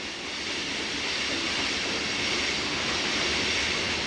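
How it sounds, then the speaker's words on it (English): Locomotive somewhere across a river near a bridge in a national forest, a broad steady rumble and hiss heard from afar, faint and continuous with no voices. "That sound you're hearing is a locomotive somewhere on the other side."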